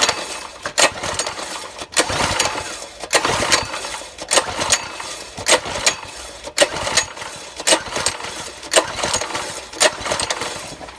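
Predator 6.5 hp small gas engine, choke on, sputtering and chugging unevenly as it tries to start, with a rough irregular rhythm and repeated sharp knocks and bangs over about eleven seconds, never settling into a steady idle.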